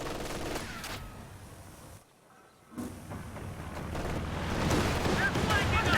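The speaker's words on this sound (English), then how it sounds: "AT strafe coming in" An anti-tank aircraft strafes a Wolverine tank destroyer in a WWII real-time strategy match: bursts of rapid gunfire and a roaring rush, a brief drop to near silence, then renewed dense, crackling fire that swells toward the end.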